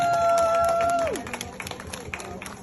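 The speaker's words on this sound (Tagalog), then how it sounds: "Palakpak naman po kayo." Audience applause at a community award ceremony honouring a Lifetime Achievement Award recipient fills the room as a steady clatter, with a sustained tone sliding downward and fading early on before the clapping continues alone.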